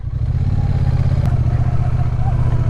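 A Triumph Bonneville motorcycle engine runs hard and steady, a loud continuous low rumble held at high revs with rattling clatter throughout.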